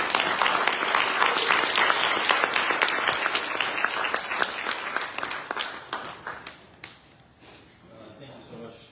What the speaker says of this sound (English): please give a round of applause for Tom Pflueger